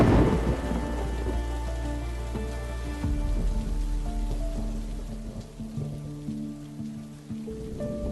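Steady rain pours with rumbling thunder as a sound effect in a Hindi romance audio drama, a dense continuous wash of falling water with low rolling thunder underneath, heard alone without voices.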